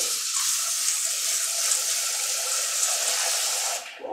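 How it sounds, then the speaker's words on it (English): Dry white beans being washed under steady running water, a continuous close rushing splash and hiss that holds evenly for about four seconds before cutting off, with no talking. "we are going to need to wash our beans"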